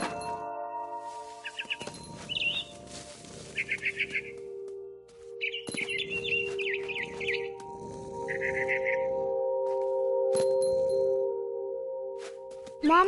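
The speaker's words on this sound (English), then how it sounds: "Then I heard chirping outside my window. It was a barn swallow going back to her nest." Barn swallow chirps in a video game, several short bursts of bright chirping over a steady game hum and background tones.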